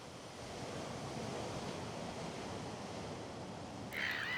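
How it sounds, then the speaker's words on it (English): A constant roaring rush of strong mistral wind over a lake, above 40 knots, fills the whole stretch, broad and steady like surf, with a brief louder gust at the close. "the wind that is now blowing at over 40 knots"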